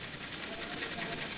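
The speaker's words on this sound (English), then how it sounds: "Cooling water for the condenser is pumped by a small 1-cylinder steam engine and centrifugal pump" A small one-cylinder steam engine drives a centrifugal pump that sends condenser cooling water aboard the SS John W Brown. It gives a faint, quick, even chuff with soft steam hiss, repeating about five times a second, with no voices.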